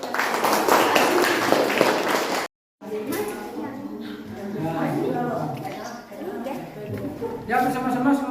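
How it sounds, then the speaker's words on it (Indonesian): A classroom of children claps together for a few seconds, a dense loud burst of many hands, which breaks off for a pause before a teacher talks over the room. "tepuk tangan."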